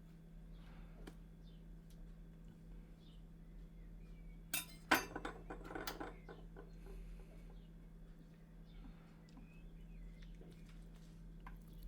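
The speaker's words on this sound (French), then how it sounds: "On vient bien retirer toute la chair." A metal spoon scrapes the flesh from a halved aubergine, soft close scraping and clinking, with a brief busier burst of scrapes near the middle and quiet gaps around it, no talking.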